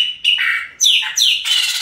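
A Brazilian blackbird (pássaro preto) sings a loud, close series of clear descending whistled phrases, four or five notes in quick succession, alone against a quiet background.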